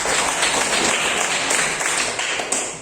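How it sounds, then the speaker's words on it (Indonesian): Classroom applause from students, dense and steady clapping that carries on at fairly high volume before tapering off toward the end. "Terima kasih aplaus"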